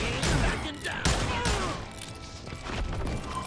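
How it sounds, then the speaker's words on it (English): Rapid in-game gunfire from the Western shooter Call of Juarez Gunslinger, a dense run of loud, overlapping shots and impacts across the whole stretch with no pauses, mixed with game effects. "Je devrais pas tirer comme ça."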